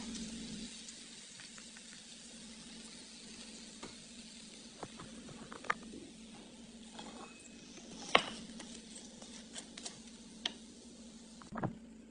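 Bacon with coconut milk sizzles softly in a pan for ginataang hipon, a quiet steady frying hiss broken by occasional clinks and stirring taps.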